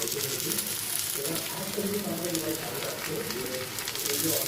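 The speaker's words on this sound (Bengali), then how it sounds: "আদাটা একটুখানি ভালো মতন ভাজা হয়ে গেছে, কাঁচা গন্ধটা চলে গেছে" Ginger fries in a pan, with a continuous close sizzle and crackle beneath a low murmur of voice.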